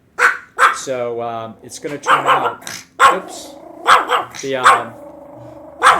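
A dog barks several times in short, separated bursts, close and loud, with a drawn-out growl-like yowl in between, while someone talks over and around the barks.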